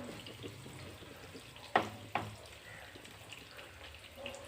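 Handfuls of chopped small onions dropped into hot oil with fenugreek and cumin for a village-style black-eyed pea curry, a soft steady sizzle with two sharp louder crackles close together near the middle.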